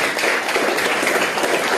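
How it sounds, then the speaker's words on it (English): Audience applause at a fight weigh-in for a Siam Warriors show in Cork, Ireland: a dense, steady wash of many hands clapping at close range, filling the whole moment without pause. "Round of applause for Santos."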